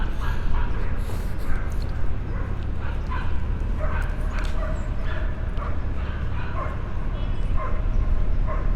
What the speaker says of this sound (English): You have a dog run right along this way.